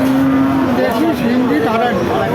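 A cow moos in one long, loud, low drawn-out call, close by at the Chaugachha cattle market in Jessore, with faint background noise.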